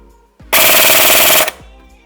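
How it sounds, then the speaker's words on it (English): Full-auto burst from an R15 Skeleton Freya Grand Power airsoft gun on an 11.1 V three-cell LiPo, a loud, dense buzzing stream of rapid shots lasting about a second, close up. "And now we're gonna try the full auto."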